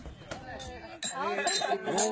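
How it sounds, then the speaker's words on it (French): Glasses clink in a toast at an evening desert camp among the dunes in southern Tunisia, a few bright chinks heard under steady talking voices. "Et pendant qu'ils trinquent au milieu des dunes"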